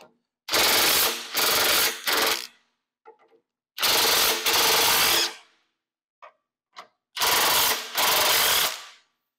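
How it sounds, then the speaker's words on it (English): An impact wrench loosens nuts on a Polaris RZR in loud, rattling bursts: three quick hammering runs, a pause, two more, then two final bursts, each sharp and close against otherwise quiet surroundings. "First, I'm gonna try to loosen them up with impact wrench and see how that works."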